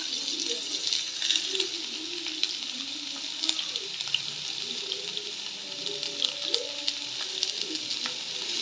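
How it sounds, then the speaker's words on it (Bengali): Ten or twelve garlic cloves and two long-sliced onions fry in oil in a pan, a constant crackling sizzle, with a voice talking faintly in the background. "এবার পেঁয়াজ রসুন আমি ভালো করে ভেজে নেব।"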